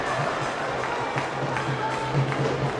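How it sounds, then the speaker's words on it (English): Crowd at a school basketball game between Bens and Wesley cheers after the opening basket, a steady distant roar of voices with faint scattered shouts. "So you can hear the cheer"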